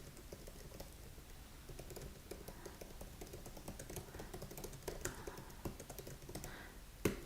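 Fingers type on a computer keyboard in a quiet room, producing a soft, continuous patter of small key taps with a slightly louder clack near the end.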